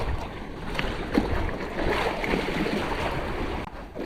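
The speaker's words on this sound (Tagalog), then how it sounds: "nagsipaglakihan na rin talaga yung mga alon at lumbas na rin talaga yung hangin" Large sea waves and strong wind buffet a small fishing boat out at a barracuda spot off Ternate, Cavite. A continuous roar of rushing water and gusts stays loud throughout, with no voices.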